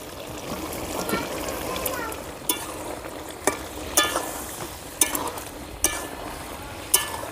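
Shukto vegetable curry with fried brinjal, bitter gourd and beans bubbling in a pan, a continuous close simmering hiss punctuated by repeated sharp knocks and clinks of a spoon, with a voice talking over it.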